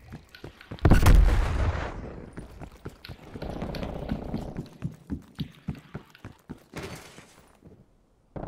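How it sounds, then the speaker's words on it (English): A Semtex grenade goes off in Call of Duty: Black Ops Cold War Kill Confirmed match, a loud close blast followed by rumbling debris, then a rapid series of sharp gunshots and footsteps in the ongoing firefight. "Simtex grenade."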